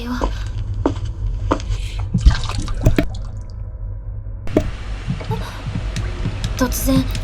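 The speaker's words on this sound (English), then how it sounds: "I was suddenly distracted by the sound of dripping water nearby. It was as if someone had left a faucet on" Water drips from a faucet in the horror game Corpse Party 2, with scattered sharp drops plinking against a low ambient drone.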